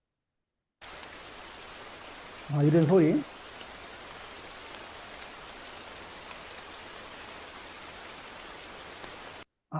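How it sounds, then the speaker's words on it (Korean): Steady hiss of rainfall on a surface, constant and even throughout, with a brief muffled voice near the start. "빗소리, 이 레인 사운드 있어요. 베스트 레인 사운드 이런 거."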